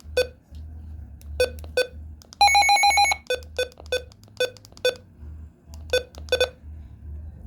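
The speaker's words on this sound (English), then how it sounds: "I just love the button beeps on this." A Midland HH54 weather radio gives short electronic button beeps at a steady pace, with one longer tonal alert-test beep sequence in the middle, over a low pulsing hum.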